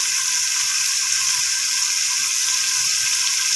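Potatoes hit a pan of roasted masala for an aloo baingan curry and set off a loud, steady sizzle that hisses evenly for a few seconds with no voices over it.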